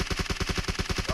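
Rapid automatic weapon fire in PUBG Mobile, a steady burst of about a dozen evenly spaced shots in quick rhythm, loud and close, with no talk over it.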